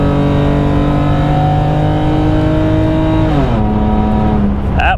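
A BMW 325xi engine holds a high, steady rev near 6,500 RPM at highway speed of about 85 mph, a loud, close droning whine that drops in pitch as the driver lifts off near the end.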